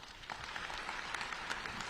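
Applause from the audience at the ICASA official opening, a crowd clapping steadily in a dense patter of hand claps that sounds a bit like rain.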